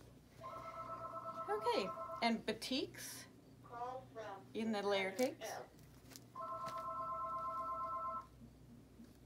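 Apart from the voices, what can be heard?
telephone ringing in a quilt store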